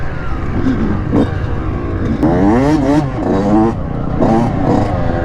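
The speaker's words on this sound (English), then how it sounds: "We got dirt bike homies out here." Dirt bike engines revving and accelerating nearby, with rising and falling whines and sharp throttle blips layered over a steady rumble, and brief talk mixed in.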